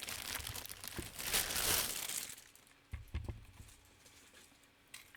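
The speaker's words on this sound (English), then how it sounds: "And we'll just remove the plastic." Plastic wrapping being pulled off a Spellbinders Lilac Shimmer Scout toy, with bursts of crinkling and tearing early on, then sparser crackles and light handling knocks close by.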